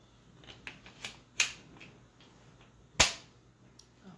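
X Products X-15 drum magazine being seated into a cheap Mossberg rifle: a few light clicks and rattles, then two sharp metallic snaps as it locks in, close and clear with no talk.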